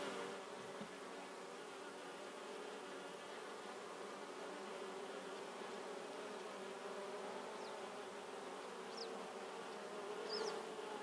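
Honey bees buzz on a hive frame in a dense, continuous drone, close and steady throughout, with a few brief higher-pitched zips of individual bees passing.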